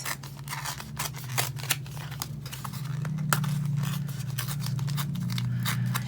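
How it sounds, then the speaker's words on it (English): Paper being torn by hand while assembling a DIY bullet journal and traveler's notebook pouch, a run of close, crisp ripping and rustling strokes over a low steady hum, with no talking. "So let's tear this."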